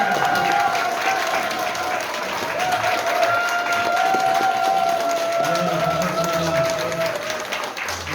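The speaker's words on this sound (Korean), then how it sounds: "박수 한번 주세요." An outdoor workshop crowd gives sustained applause to welcome their chairman, a dense wash of clapping with some cheering, steady and fairly loud for several seconds while a faint tone hums underneath.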